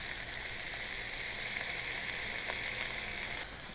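A beef burger ball smashed flat with onions on a greased griddle, a loud, close, steady sizzle with a faint scrape of the smasher, no talk, for an Oklahoma onion bourbon burger.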